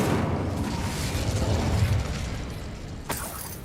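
A fire spell exploding in the video game Hogwarts Legacy: a sustained roaring, rumbling burst of flame that swells and then fades, with a sharp pop near the end.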